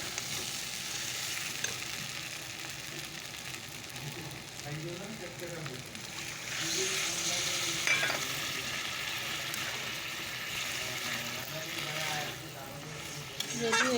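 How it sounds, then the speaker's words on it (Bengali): Chickpea curry sautés in a pan with a steady, busy sizzle and stirring scrapes, the frying swelling louder partway through as broth is added; a voice talks faintly underneath. "ছোলাটা মোটামুটি কষানো হয়ে গেছে তো এখন আমি একটু ঝোল দিয়ে দেব"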